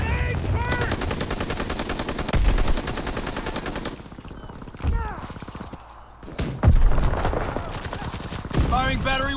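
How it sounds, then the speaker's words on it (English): Strafing-run machine gun fire in the World War II shooter Call of Duty: WWII, heard as loud, dense bursts of rapid automatic shots with brief gaps, interspersed with thuds and radio-style voice callouts. "Strafing run inbound."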